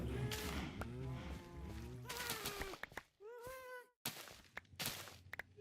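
Many cows mooing in Minecraft, overlapping low bleating calls, loud and close, crowding together in a dense chorus with brief pauses.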